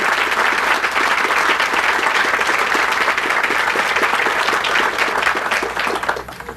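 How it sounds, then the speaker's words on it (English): A large crowd applauds steadily at a 1990 university groundbreaking ceremony for Stark Hall at Winona State, the dense clapping loud and sustained throughout before tapering slightly at the end. "So give him a big round of applause."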